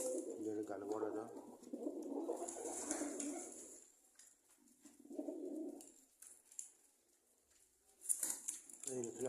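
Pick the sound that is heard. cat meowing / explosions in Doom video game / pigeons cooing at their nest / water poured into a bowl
pigeons cooing at their nest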